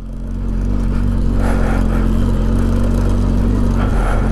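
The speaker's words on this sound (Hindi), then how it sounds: "देख रहे हो भैया, ऑफ रोडिंग बीस्ट के साथ फर्स्ट टाइम ऑफ रोडिंग चल रही है," An off-road vehicle churns through slippery mud, its engine droning loud and steady after a quick rise, with a low rumble and some rough splashing texture on top, heard from close by without speech.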